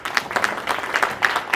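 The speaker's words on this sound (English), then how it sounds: "Please give her a round of applause." Applause at a millets conference award moment, fairly sparse clapping with individual claps standing out in an uneven rhythm, moderately close.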